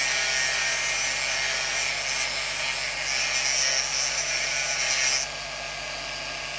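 A guitar part is sanded on a sanding block during a setup of an Alvarez acoustic guitar, giving a steady, close, gritty rubbing of even strokes that fades to a quieter hiss at the end, no voices.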